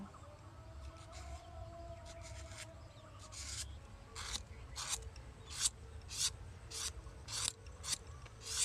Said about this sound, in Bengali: আমি একটা চাকু নিয়েছি এই চাকুর সাহায্যে উপরে যে একটা উপরের পলব আছে পলবটা আমি ছাড়িয়ে নেব